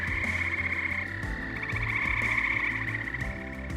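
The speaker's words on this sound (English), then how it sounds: "See a lot of the amphibians come alive and hear them at night." Frogs croak in a dense, overlapping chorus at night in Genesee County, New York, with repeated rhythmic calls and a high steady trill running alone throughout, with no voices.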